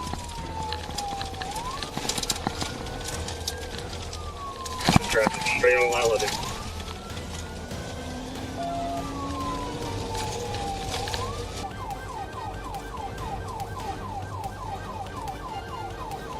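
A police patrol car's siren wails and yelps during a chase along a narrow rural dirt road, rising and falling continuously beneath radio dispatch talk, with engine and road noise and a loud burst midway.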